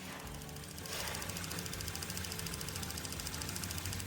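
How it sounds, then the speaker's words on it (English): Brand-new car with zero miles whose engine ticks rapidly, a steady fast mechanical ticking with engine hum, fairly close and continuous throughout, starting a little quieter before settling at an even level. "And this car has 0 miles on it, but is already ticking like crazy."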